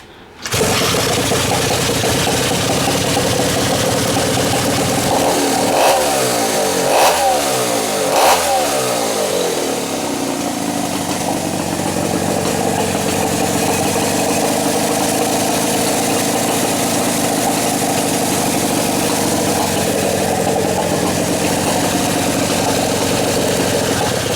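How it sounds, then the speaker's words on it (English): A choked motorbike engine cranks and catches after a few seconds, then settles into a loud, steady idle that runs on close up without any talk. "Alright guys, let's go fire up one more time."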